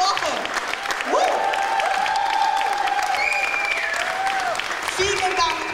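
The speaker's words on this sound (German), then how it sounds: "Bitte nochmal einen kräftigen Applaus" Audience applause after a children's dance performance at a charity benefit event in St. Leon, steady clapping across the whole stretch with whoops and voices rising over it.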